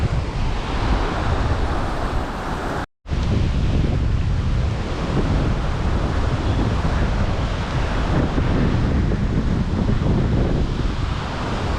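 Wind and waves at sea near the Maldives, heard as a loud, steady roar of gusting wind and surf buffeting the microphone, with one brief dropout early on and no voices.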